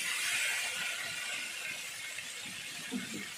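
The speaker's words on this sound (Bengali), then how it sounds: "এবার জল ঢেলে দেবো।" Water poured into a hot pan of frying potol (pointed gourd) and shrimp, giving a steady, fairly soft sizzling hiss that fades slightly over a few seconds.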